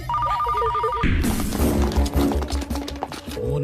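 A telephone bell rings in a steady trilling pattern for about a second, then cuts off into a loud, chaotic burst of noise and commotion, in an Indian action film scene.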